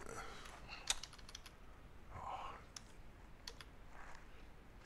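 Quiet typing on a computer keyboard, a run of light, uneven key clicks with a few sharper taps, close by against a soft background hiss.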